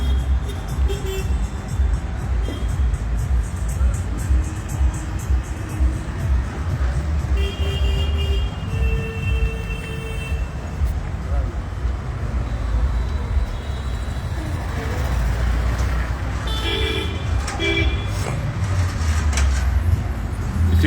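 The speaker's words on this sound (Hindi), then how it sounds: "देख रहे, चौराहा है, बोरिंग रोड चौराहा है।" Busy traffic rumbles continuously at the Boring Road crossroads intersection, with a steady wash of engines and several car horns tooting at intervals, fairly loud and close.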